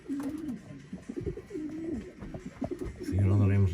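Racing pigeons coo in a loft, their throaty rolling calls repeating close by, with a louder, sustained coo building at the end; someone talks intermittently over the birds.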